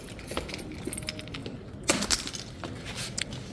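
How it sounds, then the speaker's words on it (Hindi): A bunch of car keys jingles and clinks in a hand indoors at night, several faint metallic rattles with a brighter cluster midway, against a quiet room background and no talk. "गाड़ी की चाबी"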